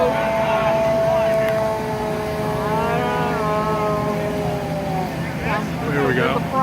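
Antique fire engine pumping water at a muster in Eisenhower Park, Milford, Connecticut, a loud continuous engine drone with a steady tone throughout, while people talk over it outdoors.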